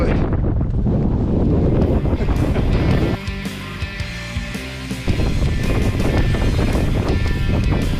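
Strong gusty wind buffeting the microphone on an exposed mountain in the Brecon Beacons, loud continuous roaring rumble with a short calmer lull in the middle where a voice is briefly heard.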